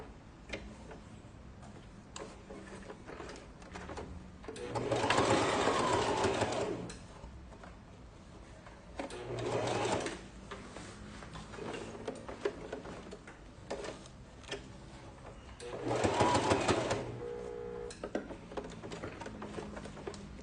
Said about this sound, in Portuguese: E a gente vai fazer essa costurinha do nó.